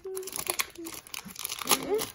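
Crinkly foil of a Pokémon card booster pack is torn open close by, with short crumpling and ripping bursts under a person speaking.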